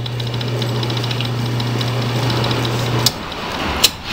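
An Atlas 6 inch lathe runs in direct drive with the lead screw disengaged, giving a quiet steady hum with a faint mechanical whir, then stops, followed by two small clicks.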